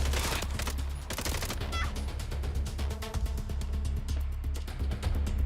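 Enemy gunfire crackles in a Red Dead Redemption 2 shootout, a dense, steady run of rapid shots layered over a constant low rumble of game music and ambience, with no pause through the whole stretch.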